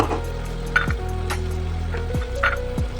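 Chicken mince frying with onion and potato for keema ghugni, a low steady sizzle under several scraping stirs of a spatula against the pan, close and without voices.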